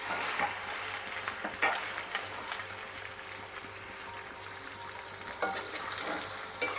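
Mutton fry sizzles in a pan in Andhra style while a spoon stirs it, a steady frying hiss under occasional scraping strokes against the metal.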